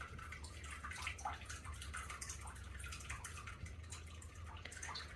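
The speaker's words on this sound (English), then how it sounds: "You can see the ground underneath the house and where the water is just steady pouring." Water pours steadily beneath the damaged floor of a mobile home onto the ground below, a faint, continuous splashing trickle with scattered drips throughout.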